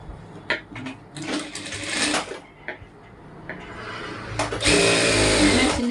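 A sewing machine stitches a sleeve onto a chudithar, running in short stop-start bursts before breaking into a longer, louder continuous run near the end.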